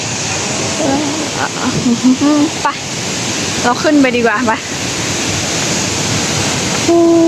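A waterfall in Thailand roars as steady broadband rushing water, loud and continuous, while people talk over it nearby.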